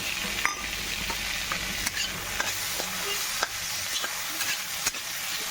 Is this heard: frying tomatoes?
yes